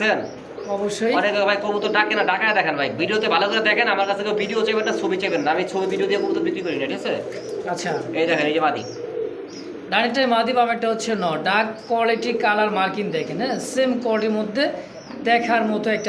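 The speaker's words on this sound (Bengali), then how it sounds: "আমার এখানে সব ক্যাটাগরি কবুতর" Many pigeons coo steadily and close by at a busy pigeon market, with soft chirps mixed in and voices talking over them throughout.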